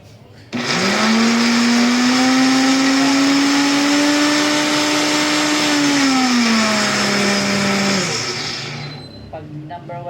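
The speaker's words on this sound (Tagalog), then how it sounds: "So yun guys ang ating blender." A commercial grinder blender whirs loudly and steadily at a constant high speed for several seconds, then winds down and stops, leaving faint clicks.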